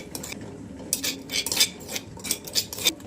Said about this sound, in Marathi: मस्त एकदा फेटून घेणार आहेत आपण.